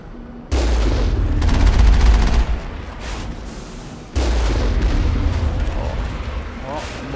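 Turret gunfire in the video game Mass Effect 1 comes as two loud, sustained bursts of booming shots, separated by a short lull.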